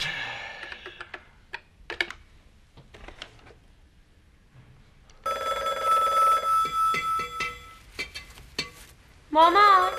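An indoor telephone rings in a scene from a Persian-language comedy series. A few sharp clicks and taps come first, followed by a steady, insistent ring that breaks off and then starts again briefly.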